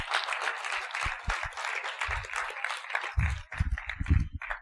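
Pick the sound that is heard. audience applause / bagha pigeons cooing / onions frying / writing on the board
audience applause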